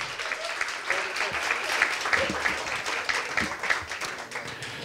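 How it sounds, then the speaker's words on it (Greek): An audience at a music performance applauds warmly, a thick wash of many hands clapping continuously, with faint crowd murmur beneath. "Πολλά τα χειροκροτήματα."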